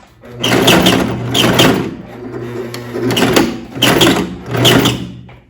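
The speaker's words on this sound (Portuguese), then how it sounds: "Eu concluo a costura e dou um retrocesso." Sewing machine stitching a fabric belt and finishing with a backstitch: several loud, close bursts of rapid mechanical whirring that rise and fall with short pauses between them.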